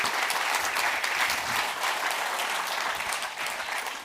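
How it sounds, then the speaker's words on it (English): A live audience at a church summit applauds steadily, dense clapping filling the room at full strength for several seconds before easing slightly toward the end. "I think they need a big applause for coming here to make that summit possible"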